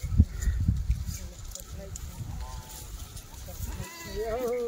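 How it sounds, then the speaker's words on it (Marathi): Kathewadi goats at a livestock sale give several wavering bleats that grow louder near the end. Someone talks over low background noise. "हे बघा शेळी."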